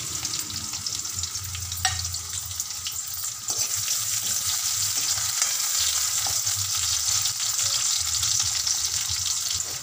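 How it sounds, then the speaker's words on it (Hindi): Chopped onions and green chillies fry in hot oil in a pan, giving a steady, close, dense sizzle that runs the whole time and gets slightly louder partway through. "प्याज को हमें ज़्यादा फ्राई नहीं करना है, बस इसे सॉफ्ट कर लेना है थोड़ा सा"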